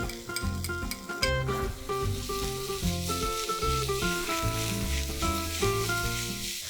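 Fish sizzles in a pan with potatoes and green onions, a steady frying hiss that sits underneath loud, prominent background music throughout.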